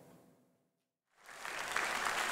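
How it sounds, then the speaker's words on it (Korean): Applause for Bill Gates entering the National Assembly in Korea: after a brief quiet gap, a crowd's clapping swells in and holds steady, moderately loud, with no speech. "박수를 받으며 국회에 입장하는 빌 게이츠"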